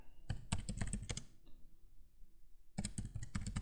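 Typing on a computer keyboard while adding text in ArcMap: two bursts of quick, close key clicks separated by a short pause, with no voices.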